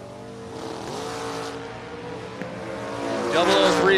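At a drag race with a Mustang and a third-generation Camaro, engines drone and rise in pitch as the cars rev, growing louder toward the end under an announcer's voice.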